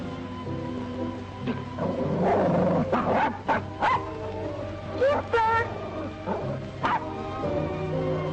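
A dog yips, barks and whimpers in short bursts over a steady background of music. Dialogue from a 1950 film plays alongside the calls.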